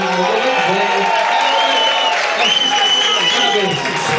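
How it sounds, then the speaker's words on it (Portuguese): A crowd applauds and cheers for a performer in a bear costume, steady clapping with whoops rising over it and voices mixed in throughout. "Uma salva de palmas pro urso"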